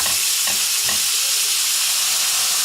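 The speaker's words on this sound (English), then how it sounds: "Now you can see how that is sizzling away nicely." Steady sizzling of chicken frying in a hot pan for curry, a broad crackling hiss throughout with a couple of soft stirring knocks early on.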